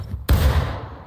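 Musket volley in the video game War of Rights: one sharp, loud crack of massed shots goes off together, then a rumbling tail fades over about a second.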